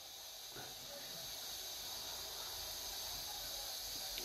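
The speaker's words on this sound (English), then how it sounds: "That's what's making that noise. Slow cooker." A slow cooker holding a chocolate dish hisses softly and steadily, a faint constant steam-like noise that runs unbroken throughout with no other distinct sounds.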